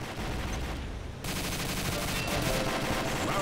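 Video game gunfire, a dense continuous rattle of rapid shots that briefly thins near the start and then resumes steady and loud, with no talking.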